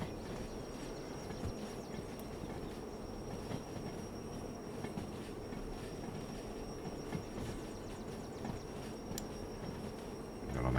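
A freight train rolls along the track in the railway simulation game Derail Valley, a continuous low rumble with wheel clatter and faint high squeal, steady and moderately loud with no talk.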